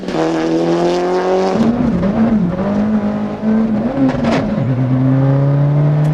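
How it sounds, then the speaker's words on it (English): A BioClear rally car at Lurgan Park, driven by Eugene Donnelly, revs loudly near a hairpin right, its engine note falling and rising unevenly after a missed gear change before climbing again steadily. "this missed gear change drops the BioClear car a place"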